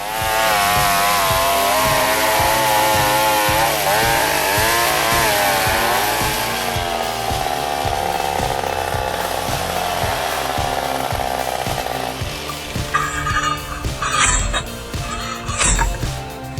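A Chainsaw Thief DH chainsaw cuts through logs beside a stump-removal wood chipper, a loud continuous whining engine drone with a pulsing low chug, steady for about twelve seconds before easing into rougher, uneven bursts near the end.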